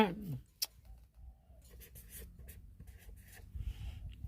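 Numbers are written by hand with a blue pen, a soft, close scratching of the pen tip in short strokes with brief pauses, plus a light tap near the start.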